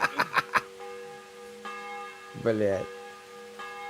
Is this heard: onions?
no